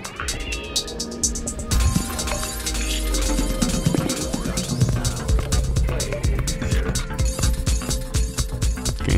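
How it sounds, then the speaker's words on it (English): Video game Beat the Game: a dense, crashing shatter with glassy, splintering fragments and heavy low rumble, cascading noisily and continuing with clattering debris throughout. "New shattering sound."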